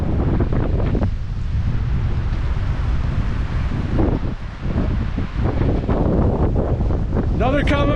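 Strong mountain wind buffets the microphone near Death Canyon in the Tetons, a loud continuous roar with gusts that briefly dip and surge.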